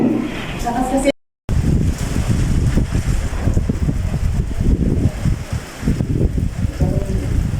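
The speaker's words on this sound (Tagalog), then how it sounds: "sobrang lakas ng hangin niya" Strong wind on a mountaintop in Tanay, Rizal, buffets the microphone in loud, rumbling gusts, with a voice talking over it and a brief dropout early on.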